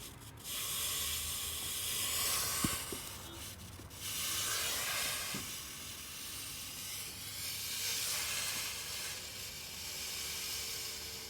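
A homemade rocket motor in a static firing, lit by a fuse, gives a steady harsh hissing roar that rises and falls for several seconds, with a couple of sharp pops near the start.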